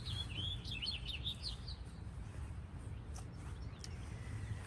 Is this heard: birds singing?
yes